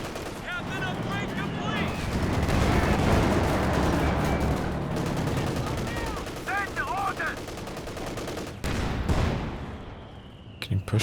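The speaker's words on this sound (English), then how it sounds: "maybe chase away this mortar, which is just blasting him right now" Mortar shelling and gunfire in Company of Heroes 2: repeated blasts and rattling shots over a dense battlefield din, with a voice talking over much of it.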